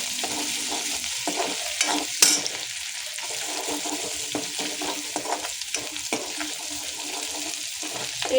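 Coarsely pounded ginger-garlic paste fries in hot oil for a prawn chilli dish, giving a loud, continuous sizzle under scraping and stirring with a spoon.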